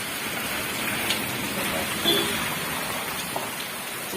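Heavy rain pours onto a road in a continuous, full hiss, close and steady, with a few brief louder splashes and no clear speech.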